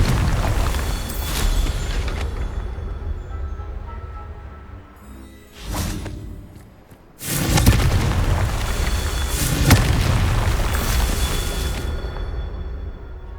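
Fiery Confringo spell explosions in Hogwarts Legacy, heavy booming blasts with rumbling tails, several loud bursts separated by brief quieter gaps.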